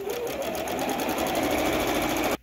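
Sewing machine stitching around the edges of fabric, a steady, fast mechanical whir with rapid needle chatter running continuously and close, then stopping abruptly.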